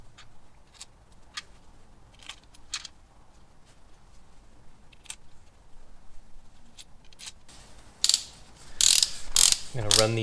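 A hand ratchet tightens bolts on a 2006 Suzuki GSX-R 1000 K6, giving close, sparse clicking strokes that build into a louder, rapid run of ratcheting near the end.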